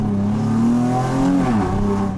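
Nissan 370Z sports car engine revving loud and close, the tone climbing then dropping sharply as it downshifts, a strong continuous exhaust roar.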